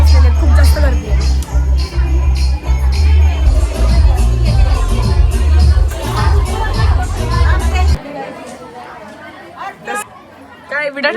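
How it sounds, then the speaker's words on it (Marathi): A large crowd gathered at a temple, heard as dense, continuous chatter and babble with scattered shouts and children's voices. A heavy low rumble runs beneath it, then drops away partway through, leaving thinner crowd noise. "पूर्ण लोक बसलेले आहेत, खूप जास्त गर्दी आहे"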